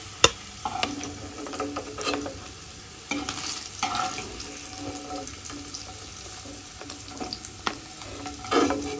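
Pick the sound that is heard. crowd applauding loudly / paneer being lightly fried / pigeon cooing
paneer being lightly fried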